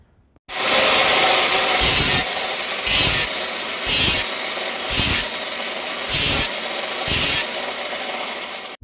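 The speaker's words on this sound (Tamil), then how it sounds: "இதை வெளிப்பகுதியை கிரைண்டிங் பண்ணி எடுத்துடுவோம்." Power grinder abrading the outer surface of a coconut shell for a shell pot, a steady loud rasping drone broken by about six brief surges as the tool bites harder, with no talk.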